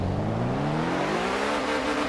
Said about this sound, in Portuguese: Agora ele ligou, tá vendo? Agora vamos acelerar.